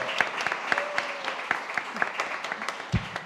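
Audience applause greets a panelist at a talk, a light spatter of clapping that stays fairly thin and even, with a few louder individual claps standing out.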